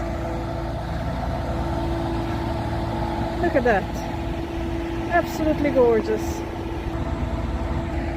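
A large, noisy truck runs nearby in Ramsgate, giving a steady low engine drone that persists throughout, while a person speaks briefly over it.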